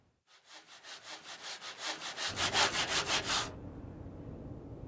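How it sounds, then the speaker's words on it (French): A hand saw works through a wooden plank in about a dozen quick, rhythmic strokes that grow louder, then stop suddenly, leaving a faint rough hiss. "C'est l'enfer quand ça scie pas une scie."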